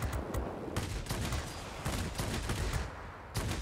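Rapid bursts of 37mm aircraft cannon fire from a Yak-3T fighter in World of Warplanes, loud repeated volleys separated by short pauses, with no talk over them.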